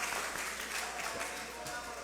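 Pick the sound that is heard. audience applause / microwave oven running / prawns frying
audience applause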